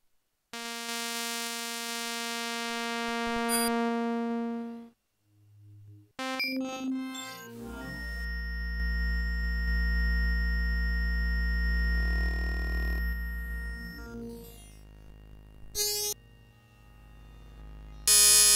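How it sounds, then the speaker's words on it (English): Experimental abstract atmosphere patch on a Waldorf Blofeld synthesizer, using every modulation slot with two oscillators: sustained harmonic sine tones shift and chirp, then a deep bass drone builds beneath layered buzzing tones, with no voices. "So we already have a very experimental sound using all modulation slots, using different modulation sources"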